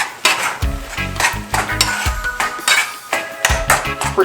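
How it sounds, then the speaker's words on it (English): A spoon works turkey hash around a pan in loud, close scraping strokes with clattering knocks against the metal, repeated in uneven bursts over a faint sizzle. "I'll get a spoon and mix that in."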